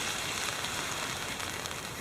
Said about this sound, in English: listen to the rain hit the tarp.